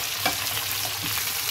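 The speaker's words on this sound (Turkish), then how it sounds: "Onları da şöyle bir karıştırıyorum." Potatoes are stirred and fried in a pan, a close, steady sizzling hiss with faint scraping as they are turned, with no talk.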